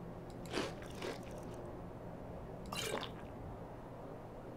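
Cabbage being eaten in the video game Skyrim gives two crisp crunchy bites about two seconds apart, faint and close over a quiet background.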